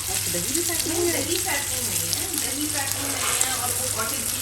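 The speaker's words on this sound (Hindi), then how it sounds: "इधर जो है वो हम इनको तल रहे हैं" Shami kebab patties fry in hot oil with a steady bubbling sizzle, close up and continuous, while someone talks over the cooking.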